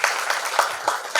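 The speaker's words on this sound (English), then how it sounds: "please use up your energy to clap for Reena" Conference audience clapping for a speaker at a microfinance HR event, a steady patter of hands with a few louder swells, moderately close and fairly even over a short stretch.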